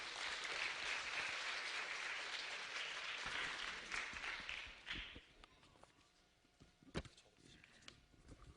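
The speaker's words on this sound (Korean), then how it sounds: "여러분 좀 큰 박수로 맞아주시면 감사하겠습니다" Audience applause welcomes the executive committee chairman at a 2012 Seoul social economy ideas contest. Dense clapping runs for about five seconds, then thins to a few scattered claps and footsteps in a quieter room.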